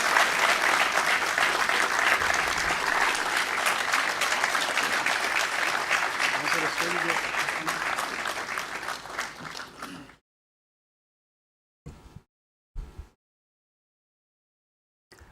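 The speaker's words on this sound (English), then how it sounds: "Please have a big round of applause for the sir." A lecture audience applauds a speaker on data management: about ten seconds of strong, dense clapping that tapers off, then near silence broken by a couple of brief thumps.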